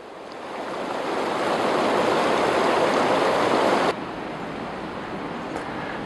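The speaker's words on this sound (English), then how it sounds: "This too is Maroon Creek." Maroon Creek, a mountain gravel-bed stream, rushes in a dense continuous broadband roar, loud and close, easing slightly partway through.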